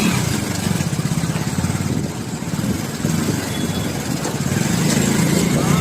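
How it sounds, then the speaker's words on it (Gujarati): A Yamaha R1 motorcycle being ridden, its engine a steady, fairly loud mid-pitched drone with a pulsing low rumble that dips briefly near the middle and then holds on. "હવે ચિરાગભાઈ હવે બાઇક ચલાવી આપણે જઈએ"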